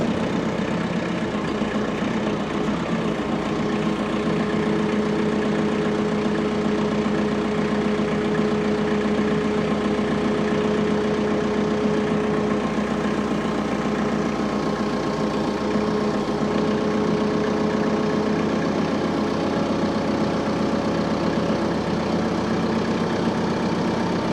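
A TYM 4820 tractor engine runs at idle under load while lifting, a steady, continuous diesel drone with a low hum and faint whine that holds even throughout, with no speech.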